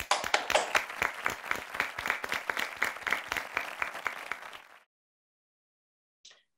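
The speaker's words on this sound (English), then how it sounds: "with a big round of applause." A press conference audience claps in a round of applause welcoming the chairman of Shincheonji Church at an event in Africa, the individual claps fairly distinct and rhythmic, then stopping abruptly, followed by near silence and a brief faint sound.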